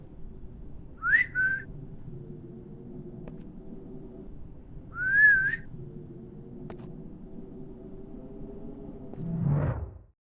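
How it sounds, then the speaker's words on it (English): Two short self-recorded human whistles, each a quick rising two-part call, used as a placeholder attack-command sound in a Unity RPG game, heard alone over a low steady room hum with a soft thump near the end. "added a whistle sound to attack command, which a friend suggested"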